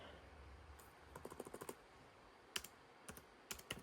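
Keys tap on a laptop keyboard while a device name is typed during Windows 11 setup: quiet, close clicks in short bursts with pauses between, over a faint background hum.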